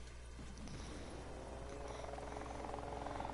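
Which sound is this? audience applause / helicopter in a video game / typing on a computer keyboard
helicopter in a video game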